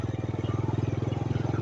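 A farm vehicle engine chugs in a rural field with a steady, rapid, pulsing rumble, close and loud throughout.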